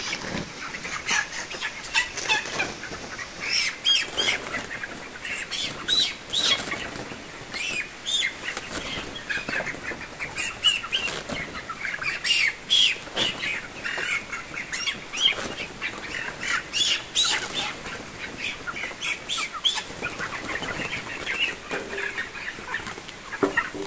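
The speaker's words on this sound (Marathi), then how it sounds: "ह्या कॅरेटमध्ये आपण 10 पक्षी घेतलेले आहेत" Ten farm birds packed in a crate flap their wings in repeated bursts and cluck and squawk throughout, with close, restless scuffling and no voices.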